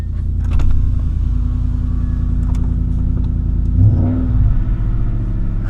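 A 2013 Ford F-150 truck with a Roush setup idles with a deep, steady engine rumble, then revs up once near the middle before settling back, loud and close throughout.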